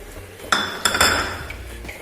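Beef roast with vinegar stirred in a metal pan over medium flame, a few sharp scraping clinks of the spoon against the pan over a low steady background.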